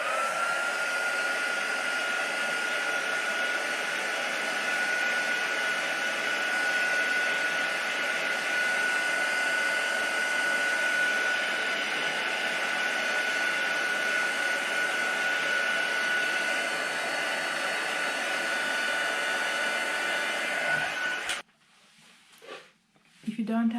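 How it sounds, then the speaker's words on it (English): A heat gun drying paint on a pebble blows with a steady, loud whooshing hiss and a faint high whine for about twenty seconds, then cuts off abruptly, leaving quiet handling noises. "you can use a heat gun."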